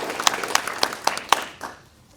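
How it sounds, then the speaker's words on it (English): Applause from an audience at a county groundbreaking celebration in Greenup County, Kentucky: a burst of scattered, sharp claps with a few louder peaks, fading out over about two seconds. "Let's give them all another big round of applause."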